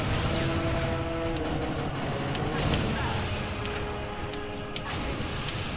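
Video game gunfire from TimeSplitters: Future Perfect, a steady dense fusillade of shots running the whole way through under a busy game soundscape, with talk over it.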